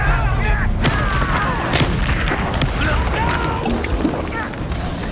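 Loud, dense Confringo blasting-spell explosions in the Hogwarts Legacy video game, booming cracks and thuds repeating over a constant rumbling battle, with a voice speaking throughout.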